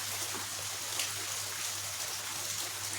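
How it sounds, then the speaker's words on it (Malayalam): Rain falling steadily outdoors, a faint continuous hiss with soft patter and trickling, heard alone without voices. "മഴയല്ലേ, മഴ പോട്ടെ."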